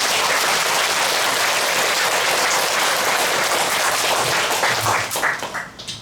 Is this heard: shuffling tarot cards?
no